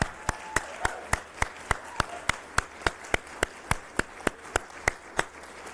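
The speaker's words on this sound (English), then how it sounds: "I think that deserves another round of applause." Steady rhythmic clapping at a Nasdaq opening bell ceremony, sharp unison claps landing evenly about three times a second over a soft room murmur, close and crisp.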